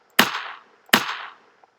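Two bullet impacts from the Zombie Runner video game, sharp cracking hits about three-quarters of a second apart, each with a short gritty decaying tail, fairly quiet with silence between.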